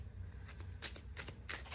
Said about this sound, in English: I'm going to pull some cards and go ahead and shuffle here.